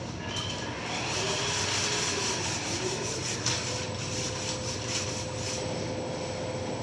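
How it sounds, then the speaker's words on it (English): Sandpaper is rubbed by hand over a coated wooden end table, giving a steady, close, scratchy rasp that runs continuously with a faint low hum underneath. "You don't gotta go crazy, just give it a little sanding."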